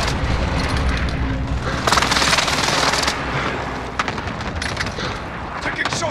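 Gunfire in the Call of Duty Warzone video game, a dense mix of shots and bursts across the whole stretch, loudest in the middle, with game voices talking over it.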